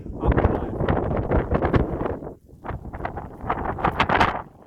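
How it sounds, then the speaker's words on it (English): Gusty wind buffets a microphone outdoors at a shooting range, loud, rumbling bursts that dip briefly midway before surging again. "wait for the wind to die down"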